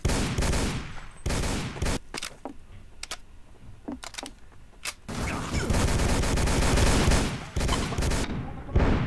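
Video game gunfire in dense rapid bursts, loud sustained volleys of automatic shots broken by a few isolated single cracks, close and overwhelming.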